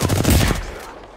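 Rapid bursts of gunfire in a shooter video game, a dense close volley of overlapping shots that cuts off after about half a second, leaving a fading reverberant tail.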